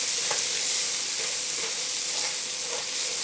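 Bacon, onions and garlic sizzle steadily in a skillet, a continuous close frying hiss with a few soft scrapes as a utensil stirs the mix, no voices.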